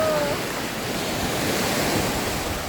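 Sea waves break steadily on a beach in Samaná, Dominican Republic, a loud continuous wash of surf mixed with wind buffeting the microphone.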